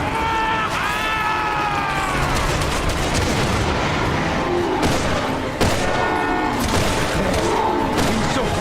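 Magnum gunshots in the video game Resident Evil 6 crack out amid dense, continuous game combat audio, with loud repeated blasts over a busy background and a voice at times.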